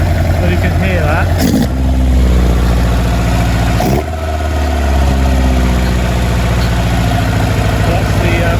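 A Lotus Elan engine idles steadily and loudly, with two brief broadband hissing bursts as the brake servo vents when the pedal is pressed; someone talks over it.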